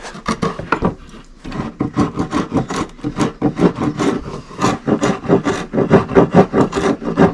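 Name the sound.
small block plane scalloping a wooden edge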